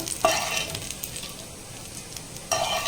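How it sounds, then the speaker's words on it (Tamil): Dried chili and curry leaves, tempered in hot oil, sizzle as they are poured over a red chutney. A sharp hiss at the start settles into a steady crackle, then a fresh louder burst of sizzling comes near the end. "ஒரு காஞ்ச மிளகாயும் கருவேப்பிலையும் தாளிப்பு"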